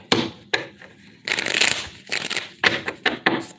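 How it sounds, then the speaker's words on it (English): Tarot cards shuffled by hand in several quick bursts, crisp riffling rustles close to the mic, separated by short pauses, with no talking. "3 more shuffles"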